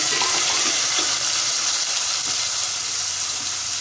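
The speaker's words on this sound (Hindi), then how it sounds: "थोड़ा सा दो घूंट का पानी" Water poured into a frying spice mixture of tomatoes and masala while cooking mixed sabzi, a loud continuous hiss and rushing sizzle that holds steady for a few seconds.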